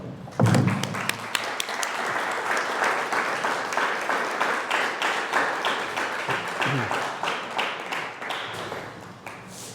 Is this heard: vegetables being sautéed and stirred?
no